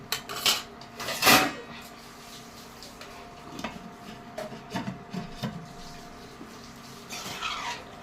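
Spice paste for a vegetarian wedding-style chana masala being stirred and sautéed in a pan, with scraping and rubbing strokes at irregular intervals and a few louder clanks, moderately close and without talk.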